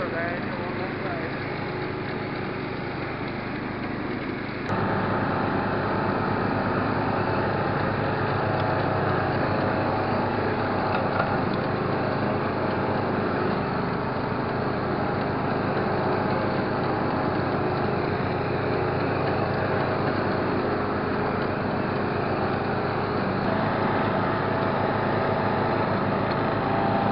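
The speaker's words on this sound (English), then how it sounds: "Now you've seen what it's like to drive a 1970's ride-on lawnmower." A 1970s Simplicity Regent ride-on lawnmower cuts grass, its engine droning steadily and loudly throughout with a slight shift in tone partway through, close to the microphone and with no talk over it.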